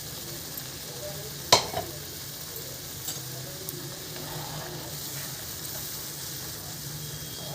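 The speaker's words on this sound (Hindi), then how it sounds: "तो देखिए ऑयल हमारा गर्म हो चुका, अपनी चटनी को इसमें डाल देते हैं।" A steady sizzle of chutney frying in hot oil, with a sharp clink near the start and faint stirring taps, no talking.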